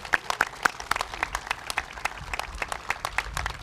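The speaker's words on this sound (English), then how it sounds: "And let's give Ann a big round of applause." Applause from a modest outdoor crowd at a groundbreaking ceremony for a new recreation center and library: distinct individual claps close by, irregular and fairly sparse, with no talking.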